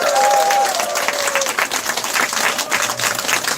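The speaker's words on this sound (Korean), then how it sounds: "큰 박수로 김보건 실장님을 모시도록 하겠습니다" Lively applause from an event crowd welcoming a speaker to the stage, a full, close burst of clapping lasting a few seconds, with a brief tonal sound near the start and faint cheering mixed in.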